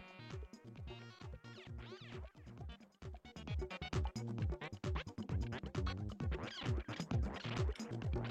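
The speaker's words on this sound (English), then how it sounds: "a melodic sequence to this guy, the Cloud Tyrannium, which sounds like this." A Cloud Tyrannium synth module plays a melodic note sequence driven by an Arturia Beatstep Pro, with quick rhythmic plucky tones repeating steadily at moderate loudness, and no talking.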